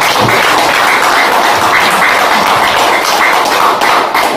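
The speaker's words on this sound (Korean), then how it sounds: "이런 얘기 들으면 박수를 주셔야 돼요." Audience applause at a lecture on Korean liberal democracy, a loud continuous wash of clapping with some heavier thuds mixed in, filling the whole stretch.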